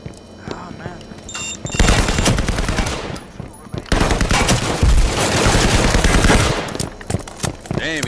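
Rapid automatic gunfire from an enemy in the game Firewall rattles in long, loud bursts with brief gaps between them, and voices talk over the shooting.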